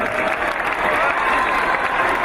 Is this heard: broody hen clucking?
no